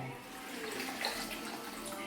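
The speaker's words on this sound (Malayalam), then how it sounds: "മീൻ വേവാനുള്ള വെള്ളം ഞാൻ ഒഴിച്ചു കൊടുക്കുകയാണ്" Water is poured steadily into a cooking pot for a fish curry, a continuous splashing rush heard close up with no talk.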